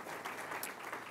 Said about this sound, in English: can we have a round of applause for Carroll County's first graduating class